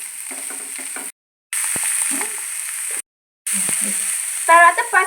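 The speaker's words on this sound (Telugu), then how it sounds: "ఇప్పుడు మంచిగా ఫ్రై చేసుకుందాం" Vegetables seasoned with pepper and salt sizzle steadily in a frying pan, the hiss cut by two short silent gaps, with faint stirring knocks and a brief voice near the end.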